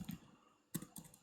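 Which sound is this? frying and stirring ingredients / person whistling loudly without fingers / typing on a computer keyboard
typing on a computer keyboard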